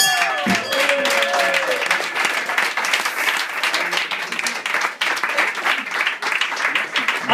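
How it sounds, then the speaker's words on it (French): An audience at a cover performance breaks into loud, dense applause after the song, many hands clapping close by and sustained throughout, with a few voices mixed in. "J'applaudis."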